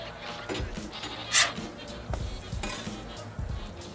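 French toast sizzles on a Blackstone griddle while a spatula scrapes and taps the steel surface during flipping, giving several soft thuds and clinks over a low sizzle, with a brief bright scrape in the middle.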